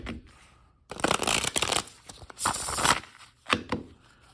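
Kem plastic playing cards riffled and bridged in several quick bursts, a crisp fluttering rattle with short pauses between, close up and fairly loud.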